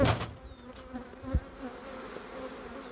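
Honey bees buzz around beehives, with several close insect passes and a steady hum behind, a few louder bumps early on.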